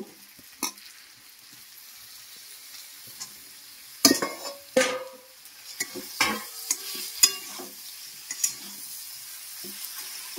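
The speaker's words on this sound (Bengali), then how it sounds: "বেগুনগুলো দিয়ে দেব।" Eggplant pieces are added to a pan while cooking drumstick flower curry, giving a soft sizzle with a burst of stirring and scraping clatter midway, then repeated utensil knocks over the frying hiss.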